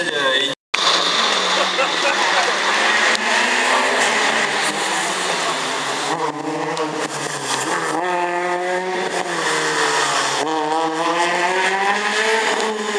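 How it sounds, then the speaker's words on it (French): A Peugeot 206 rally car racing through the town streets of Haguenau during a special stage, its engine revving and shifting loudly nearby, with a commentator talking over it throughout. "C'est maintenant au tour Peugeot 206 de Jérôme Guérin de passer ici dans le parc de la gare pour son premier tir de circuit"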